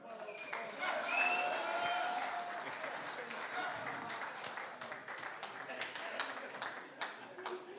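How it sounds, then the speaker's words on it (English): Applause from a crowd at an awards ceremony, steady clapping that builds and holds at a moderate level, with a few whistles rising above the noise. "One more round of applause, please,"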